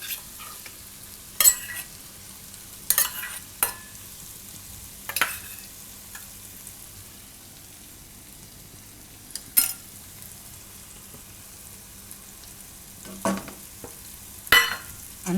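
Cream being stirred into a broccoli and cashew curry in a pan over a low flame, with a scattered handful of soft spoon scrapes and taps separated by long quiet gaps and a faint low hum.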